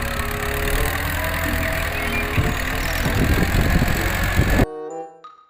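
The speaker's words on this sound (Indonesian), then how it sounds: "Kalau yang ini adalah si wheel loader penggaruk tanah." A wheel loader earth-digging machine runs with a steady, dense engine drone and rumble, loud and continuous, before cutting off abruptly near the end into a faint tail of other sound.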